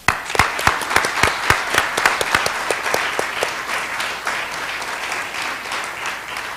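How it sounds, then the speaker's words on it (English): Applause from the audience at the National Public Policy Forum finals in New York, a dense run of clapping that starts strong and fades gradually over several seconds, with no speech over it. "a big round of applause for all four of our teams who made it this far to New York."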